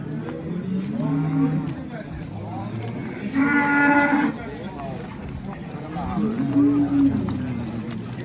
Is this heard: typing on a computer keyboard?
no